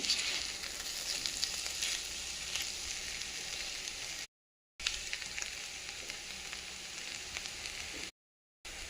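Shredded cabbage frying in a pan makes a continuous, even sizzle with a crackly hiss, broken twice by brief silent gaps, with no one talking.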